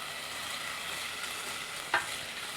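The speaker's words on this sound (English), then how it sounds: "Now at this point we add some chopped tomatoes." Chopped tomatoes sizzling with mirepoix in a pot, a steady soft frying hiss throughout, with one brief stir or clink near the end.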